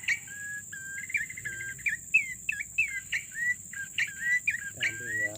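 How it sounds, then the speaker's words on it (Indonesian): A wild red-headed coki bird gives a rapid string of short, bright chirps and whistled notes, fairly close, over a steady high insect drone, with a brief faint voice near the end. "ini burungnya koki kepala merah"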